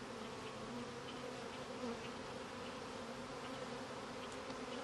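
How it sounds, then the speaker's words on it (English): Dense honeybees swarm around an open-topped hive during queen cell relocation, making a loud, continuous close-up buzz with no break. "I am currently surrounded by a lot of bees"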